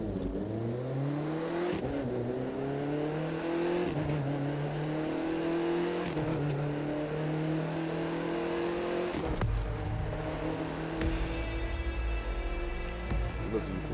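Car driving in The Crew 2, a steady engine climbing in pitch through several gear changes, each shift dropping the tone before it rises again, loud and continuous, louder rumble near the end.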